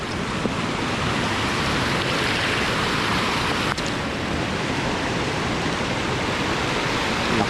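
Heavy rain and rushing floodwater make a dense, unbroken roar of hiss and churn, loud and steady throughout, with no voices.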